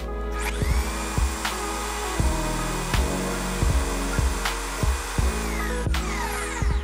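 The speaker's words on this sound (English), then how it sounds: "now we know that the pilot drill has penetrated the pipe" A power drill whines steadily as a pilot drill and hole saw cut into a pipe for a Danfoss DN150 ball valve, with regular clicking knocks repeating roughly every second throughout.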